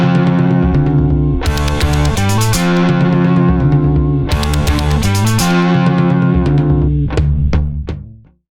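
Distorted electric guitar plays a riff built on power chords: a loud, saturated, rhythmic phrase played twice over about eight seconds with no talking, then a few quick stabs before it cuts off.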